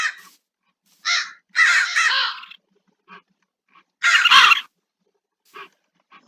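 Crows cawing in a Minecraft Create modpack game, a handful of harsh, close caws in short bursts separated by silent gaps.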